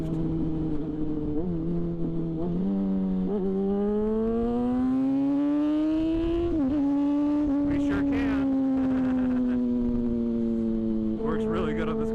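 A 2006 Yamaha FZ6 motorcycle engine revs up in a steady climbing whine, dips briefly at each no-lift gear shift, then pulls up again, loud and close, with wind noise and a voice speaking over it.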